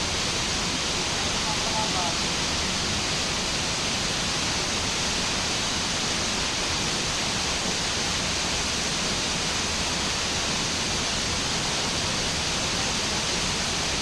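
Hidden Falls waterfall gives a steady, close, full roar of rushing water that runs unbroken throughout, with faint voices beneath it.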